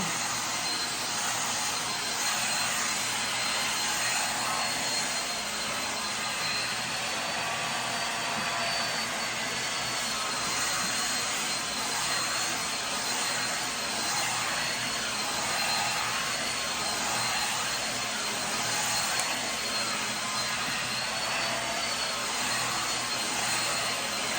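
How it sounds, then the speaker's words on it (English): A steady, loud whooshing roar of a comb-attachment blow dryer drying natural hair, running continuously without pause, close to the listener. "when using your comb blow dryer"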